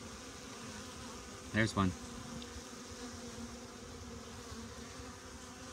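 Saskatraz honeybees at a hive entrance, returning loaded with pollen, make a steady low insect hum throughout, with a brief louder buzz as one flies close past the microphone; a voice speaks briefly.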